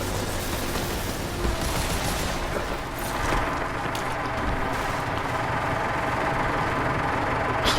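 A tank engine drones in Sniper Elite V2, a continuous low rumble mixed with dense background battle noise and scattered distant gunfire, holding fairly steady throughout.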